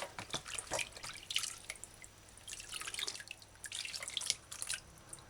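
Tap water runs and splashes over a cucumber as its skin is washed at a sink, a faint, uneven trickle with irregular drips and splatters, no voices.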